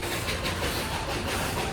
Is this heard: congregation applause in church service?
no